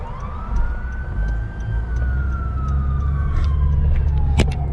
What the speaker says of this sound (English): I'm not sure if you guys have heard the sirens, how many times they've been going off.